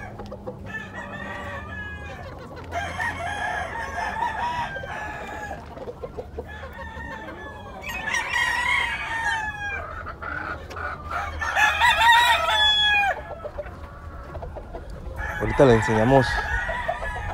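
Giro roosters on a farm crow repeatedly and cluck, the loud crows rising and falling with several birds overlapping, while someone talks briefly nearby.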